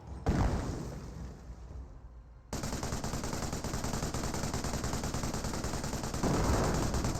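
Machine gun fire suppressing Panzer Grenadiers in Company of Heroes 1: a loud burst at the start fades, then after a brief lull rattles on densely and continuously, swelling louder near the end.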